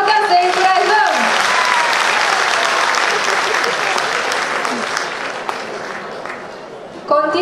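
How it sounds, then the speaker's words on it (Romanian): Loud, sustained audience applause with dense clapping filling the room, gradually thinning toward the end before a sudden burst of sound at the close, at a cultural event with an artistic program. "haideți să-i aplaudăm"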